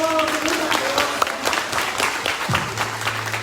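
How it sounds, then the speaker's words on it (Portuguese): Worshippers in a church applaud for the Lord during an evening celebration service, a sustained crowd clapping at moderate loudness with a voice briefly heard at the start and a low hum entering near the end. "Pode aplaudir o Senhor"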